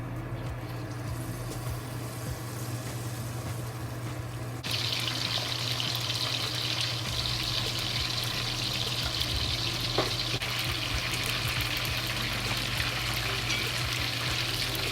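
Pieces of pork for sweet and sour fried tenderloin fry in hot oil, giving a steady, close sizzle that grows louder and brighter partway through and continues without pause.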